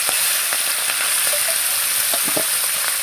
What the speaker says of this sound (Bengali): এক কড়াতে তেল গরম করে তাতে ছোট মাছগুলো ভেজে নিতে হবে